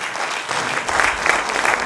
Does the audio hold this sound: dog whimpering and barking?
no